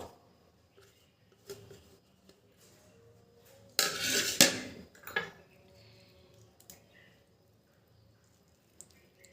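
Grated onion being pressed through a strainer into a bowl produces a short burst of metallic clinking and scraping in the middle, with soft handling noises before and after in a quiet room.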